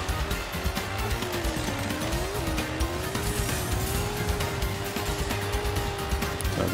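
Toy-sized racing tractors in the Toybox Turbos video game: a continuous engine drone with a wavering pitch, mixed with tire squeal and skidding noise, loud and sustained throughout.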